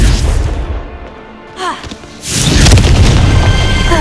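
A Confringo spell explodes in Hogwarts Legacy, played on Xbox Series S: a loud, close boom with a brief thud in the middle, then a broad roaring blast, with a voice speaking alongside.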